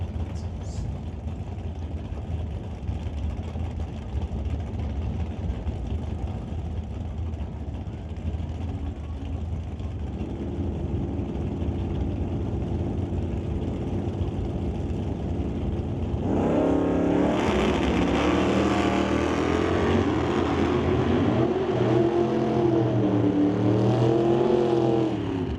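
Drag racing launch of a Lordco Auto Parts Malibu against a pickup, engines idling loudly, then a sudden roaring take-off with climbing, shifting revs that carry on down the strip.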